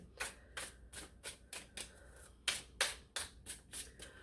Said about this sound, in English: I was shuffling the deck upside down